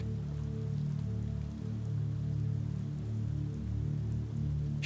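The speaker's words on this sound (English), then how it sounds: "watching and listening as the raindrops plunge into a few small puddles" Rain falls steadily into a few small puddles outside a bakery's front window, making a soft, even, continuous patter under a faint low hum.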